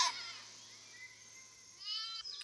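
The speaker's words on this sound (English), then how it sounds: "There's our goats. They're very loud today." Goats bleating loudly on a farm during a summer walk: one strong, wavering bleat opens the clip and a second long, nasal cry follows near the end, both close and clear over quiet surroundings.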